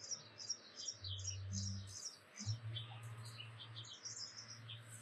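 Small birds chirp in a desert garden, quick repeated high tweets from several directions, with a low hum and a faint voice underneath.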